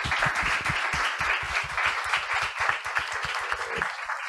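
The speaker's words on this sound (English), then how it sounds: "Please give them a round of applause." Conference audience applauding panelists at a blue economy event, a steady, moderately loud round of clapping with individual claps audible, continuing throughout without talk.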